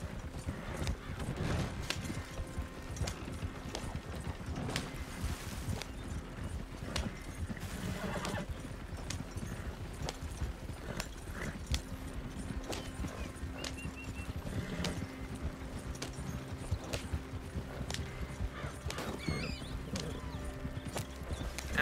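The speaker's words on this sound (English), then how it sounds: "when you have the stage coaches or whatever and you're riding them, I'm surprised that the horses don't have like a stamina thing" Horses pulling a stagecoach in Red Dead Redemption 2 clip-clop steadily throughout, with wheels and harness rattling, a dense, continuous rhythmic mix at moderate loudness.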